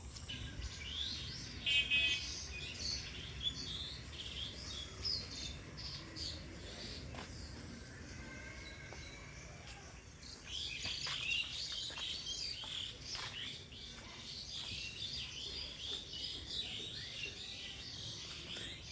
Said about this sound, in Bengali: আসলে পাখিদের ডাক শোনা যাচ্ছে